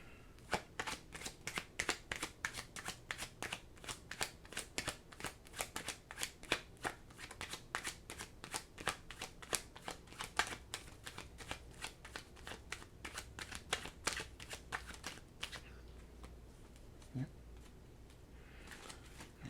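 Oracle cards shuffled by hand in a rapid, steady riffling patter for about fifteen seconds, then a quieter tail, with a voice talking over it.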